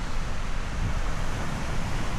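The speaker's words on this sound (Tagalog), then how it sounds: "Ang laki ng alon." Large ocean waves breaking at Blue Lagoon in Pagudpod, a steady broad roar of surf mixed with wind buffeting the microphone, loud and continuous with no talking.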